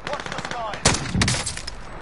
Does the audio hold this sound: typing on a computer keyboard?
no